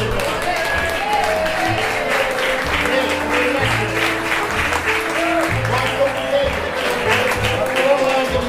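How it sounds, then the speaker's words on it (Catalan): At a cafe inauguration, a crowd claps steadily for several seconds, with voices and background sound mixed in throughout. "fa un aplaudiment també"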